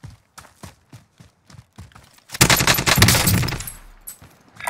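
Sniper fire in a shooter video game: a string of spaced single cracks, then a heavy sustained burst of gunfire building loud before trailing off, with no voices over it.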